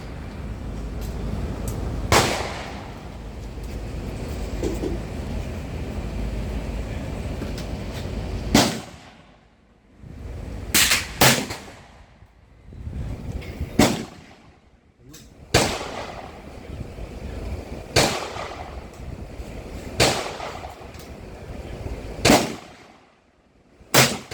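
An SKS rifle with a bipod fires about eight sharp, loud shots at uneven intervals, each a crack with a short decay, after a stretch of steady outdoor background noise.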